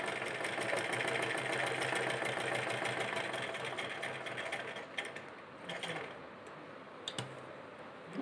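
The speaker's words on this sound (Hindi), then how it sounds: "अब हम यहाँ से इसको सिलाई करके लाएँगे।" A sewing machine stitching a homemade fabric face mask runs steadily, a dense continuous mechanical whir that holds for most of the stretch, then eases with a few brief clicks and pauses near the end. No one speaks.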